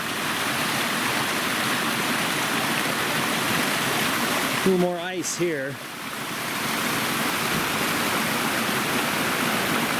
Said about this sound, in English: Here's the second crossing of Lone Pine Creek's North Fork.